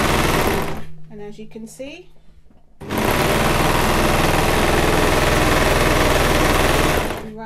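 A Brother 1034D serger overlocker runs loud and fast in a steady continuous whir, stopping briefly while a person speaks, then stitching again for several seconds before trailing off.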